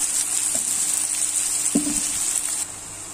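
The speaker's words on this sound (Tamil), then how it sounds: "சின்ன வெங்காயம் ஆட் பண்ணதுக்கப்புறம் நல்லா நம்ம இதை வதக்கிக்கலாம்" Small onions sauté in an oiled pan for Tamil-style brinjal masala, a steady bright sizzle running throughout with a couple of soft stirring scrapes, close and fairly loud with no voices.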